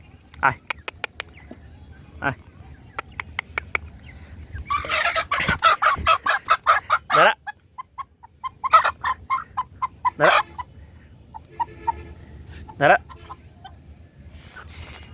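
Tiger chickens cluck and squawk close by in quick, irregular bursts, with occasional louder calls standing out from the flock.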